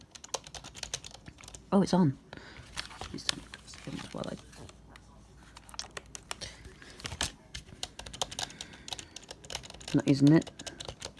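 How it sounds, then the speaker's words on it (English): Logitech MK250 rubber dome keyboard tapped in scattered bursts of soft, muffled keystrokes with a few louder thumps, while someone speaks briefly over it. "This is just a rubber dome keyboard."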